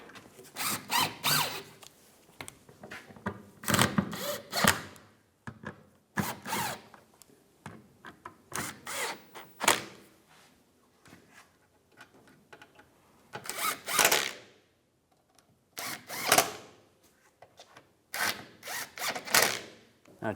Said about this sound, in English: And now we'll tighten the rest of them.